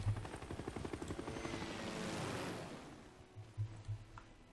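Helicopter units moving in the video game Civilization VI, a loud rhythmic rotor chop that swells and fades over a few seconds, heard alone and close.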